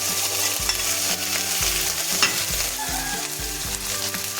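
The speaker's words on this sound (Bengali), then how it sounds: "এবার দিয়ে দিচ্ছি আদা বাটা, জিরে বাটা, কাঁচা লঙ্কা বাটা।" Ginger, cumin and green chili paste frying in a pan, a loud continuous sizzle close up, with rhythmic low scraping thuds from stirring about once a second and no voices.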